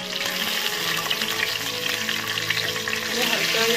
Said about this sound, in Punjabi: ਇਹਨੂੰ ਹਲਕਾ ਜਿਹਾ ਫਰਾਈ ਕਰਾਂਗੇ, ਭੁੰਨਾਂਗੇ।